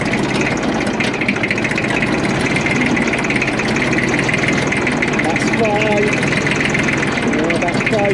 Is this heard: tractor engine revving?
yes